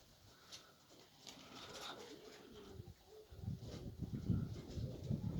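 A flock of trained pigeons coos softly around a house on a windy day, with low gurgling calls building toward the end over steady wind noise.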